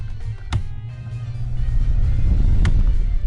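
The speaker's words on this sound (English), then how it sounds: "I really want to turn my fan on, but my fan's right behind my mic" Steady low whooshing rumble of a fan's air right against the microphone, close and fairly loud, with a couple of brief knocks.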